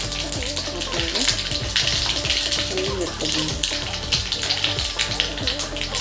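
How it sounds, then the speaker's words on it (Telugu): Mustard seeds, cumin and fenugreek sizzle steadily in hot oil for home-style sambar, a continuous close crackling hiss with scattered pops throughout. "ఆయిల్ అయితే వేడెక్కింది ఆవాలు జీలకర్ర కొన్ని మెంతులు కూడా పోసుకోవాలి"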